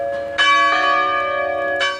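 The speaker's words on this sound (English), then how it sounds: "Holy Trinity Anglican Church across the street also rings its bell in tribute" Holy Trinity Anglican Church bell rings out in tribute during Bells of Peace, two clear strikes about a second apart with long sustained ringing overtones hanging between them, fairly loud and close, no voices.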